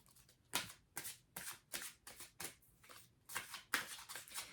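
A deck of oracle cards being shuffled by hand, a rapid series of about nine crisp riffling bursts in a steady rhythm, close and clear with no talking.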